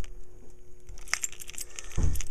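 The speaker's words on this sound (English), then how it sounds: "if any of you young enthusiasts ever want a big key ring, this is the stuff that you gotta deal with" Keys on a big key ring jangling and clinking while someone searches for one specific key, a busy metallic rattle running through the clip with a heavier clunk near the end.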